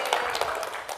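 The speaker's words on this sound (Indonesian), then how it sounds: "Tepuk tangan ini." A brief burst of audience clapping at a blood donation and hydroponics training event held by PMKM Prima Indonesia in Kudus, a quick patter of hands from a modest crowd.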